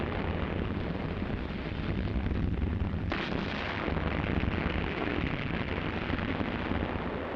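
The battleships New York and Nevada fire naval guns to bombard the Iwo Jima beach area in World War II. A loud, dense, continuous roar of heavy booming rumbles without a break, with the blasts blending into one another.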